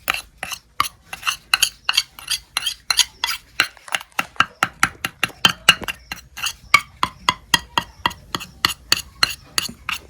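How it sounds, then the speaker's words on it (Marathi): A spoon mixing a turmeric face-pack paste in a bowl, giving a fast, regular run of close, bright clinks and scrapes, about three per second, with no speech. "बघा आता आपल्याला ह्याचं मिसळून घ्यायचं आहे"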